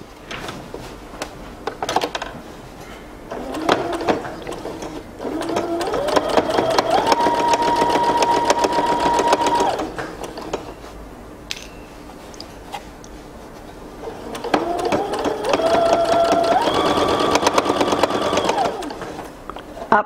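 A sewing machine stitches a back pocket on drawstring pants in two close, loud bursts, each whirring up in speed and holding a steady hum before stopping, with a quiet pause between and no talk.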